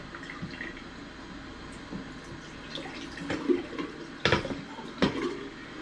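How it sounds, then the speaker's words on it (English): Tap water runs into a darkroom tray in a garage, a quiet steady trickle with a few louder splashes and knocks toward the end; nobody speaks. "we'll let this fill up for a little bit, run for a couple of minutes just to get any dust out"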